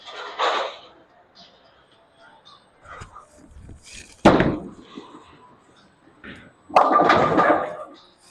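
A two-handed bowling shot at a bowling alley: a few faint background noises, then a sharp thud, and a little later a loud, clattering crash of pins close by.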